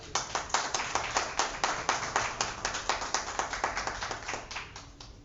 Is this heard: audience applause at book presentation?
yes